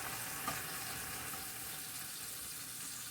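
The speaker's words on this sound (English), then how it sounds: "We'll just let that fry a little bit" Pre-cooked breakfast food frying in a pan gives a steady, even sizzle that holds at one level throughout, close and moderately quiet, with one brief soft knock near the start and no voices.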